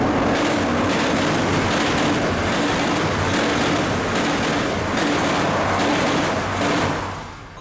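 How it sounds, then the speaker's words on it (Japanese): Keisei line train crossing the Arakawa railway bridge, heard from beneath the bridge near the embankment end, a loud, sustained rumble and clatter that booms steadily throughout before easing off at the end, with no speech. "通過する列車の音がガンガン響きます。"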